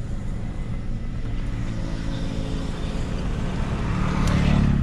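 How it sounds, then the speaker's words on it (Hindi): A motorbike passes a parked car on a road, a steady low engine drone heard close by from inside the car that swells slightly louder toward the end as it goes past. "चलिए ये बाइक निकल गया है"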